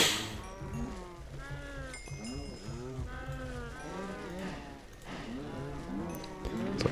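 Cattle in the Minecraft video game, including a brown cow, moo repeatedly in close, overlapping calls that carry on steadily for several seconds.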